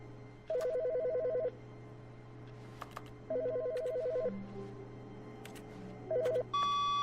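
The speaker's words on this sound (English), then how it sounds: "There's a phone ringing." A telephone rings in The Stanley Parable: Ultimate Deluxe video game, three clear electronic ring bursts spaced a couple of seconds apart over a low steady hum, with no talking.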